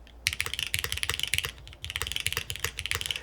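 Rapid typing on a Neo75 mechanical keyboard built with a plastic plate in a top-mount layout, a dense run of close, crisp keystrokes with a brief pause partway through and no talking.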